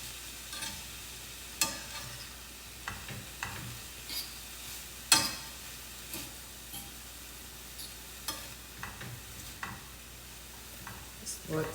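Shrimp and vegetables stir-fry in a pan with a faint, steady sizzle, broken by repeated scraping and clacking strokes as the food is pushed around.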